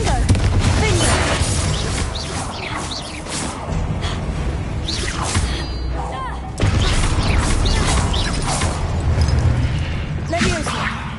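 Confringo fire spell explosions in Hogwarts Legacy, several booming fiery bursts and whooshes over a dense, loud battle bed of game effects, with sharp swells near the middle and toward the end.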